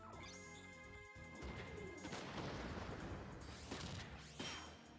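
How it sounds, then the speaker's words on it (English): In the video game Front Mission 3, a shotgun blast hits with a heavy crash, followed by a rumbling burst of impact and debris that fades over several seconds. "You, sir, is deserving of a shotgun to the face."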